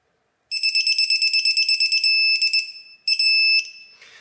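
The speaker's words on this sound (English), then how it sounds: "when this torque wrench beeps" A beeping torque wrench signals its set torque during a Toyota 2JZ engine build. The rapid, loud, shrill electronic pulses run in a fast train, then hold as long continuous tones broken by short gaps, heard alone and close.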